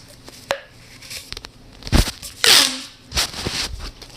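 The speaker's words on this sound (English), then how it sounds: "And then my pop tube, it's super loud," A pop tube fidget toy is popped and stretched, making several loud, close, irregular pops and snaps with brief gaps between them.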